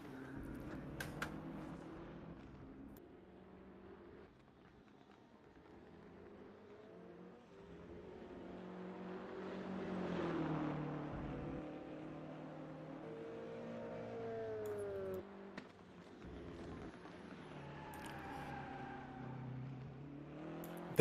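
A Mercedes-Benz race car engine at Kyalami in rFactor 2 drones steadily, rising and falling with revs through repeated downshifts and accelerations, heard continuously at moderate loudness.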